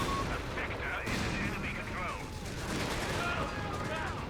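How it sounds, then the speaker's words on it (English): A tank battle in the Company of Heroes 3 video game, with tanks and anti-tank guns firing: a dense, continuous roar of overlapping cannon shots, explosions and gunfire, loud throughout with no pauses. "big tank battle here in the middle. Both sides firing AT, shredding each other."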